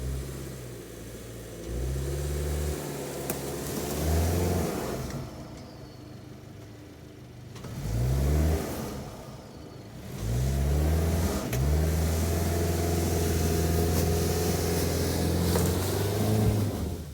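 A Subaru Outback XT engine revs hard in repeated surges climbing a snowy slope in X-Mode, pitch climbing and dropping as the front wheels spin, loud and close with brief easing between bursts.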